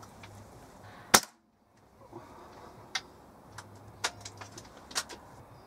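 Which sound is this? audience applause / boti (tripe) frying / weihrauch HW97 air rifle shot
weihrauch HW97 air rifle shot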